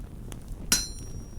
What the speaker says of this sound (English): the helve hammer would do that automatically